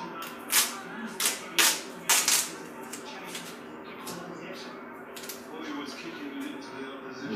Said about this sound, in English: take some duct tape and split it in half